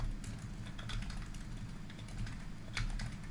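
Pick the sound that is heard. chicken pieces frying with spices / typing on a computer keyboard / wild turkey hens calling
typing on a computer keyboard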